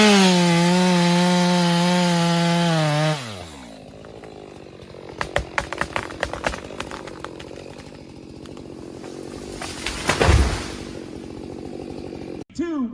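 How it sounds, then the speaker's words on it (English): Chainsaws in a two-man cutting race through wood: a loud, close engine roar holds steady, then winds down sharply, followed by scattered cracking and splintering snaps and a final heavy crunch. "Two men step forward, each gripping a roaring chainsaw"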